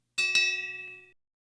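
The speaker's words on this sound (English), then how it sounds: "Ring that bell." A bright bell ding sounds twice in quick succession, then rings out in a clear, clean tone that fades within about a second into silence.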